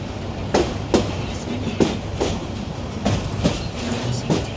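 A passenger train on the Dhaka to Kishoreganj line running along the tracks, with a loud continuous rumble and a regular clickety-clack of wheels over rail joints, heard from on board.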